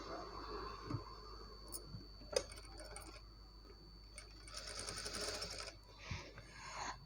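A sewing machine stitches a blouse back neck design, sounding as faint, intermittent mechanical ticking and clicking at low volume, with a slightly busier whirring burst partway through.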